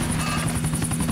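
A helicopter in Grand Theft Auto IV hovers or idles close by, its rotor drone a steady, loud, continuous whir with no voices over it.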